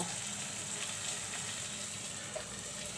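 Dried poa fish (shutki) sizzles steadily while being sautéed in a pan, a close, continuous frying hiss with a faint clink near the end and no talk.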